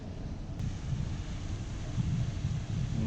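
A Hallberg-Rassy 54 sailboat motoring under engine along a sheltered shore gives a steady low rumble of engine and water, with constant wind buffeting on the microphone.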